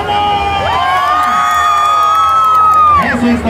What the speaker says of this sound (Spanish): Más fuerte el grito de los que están orgullosos de ser mexicanos.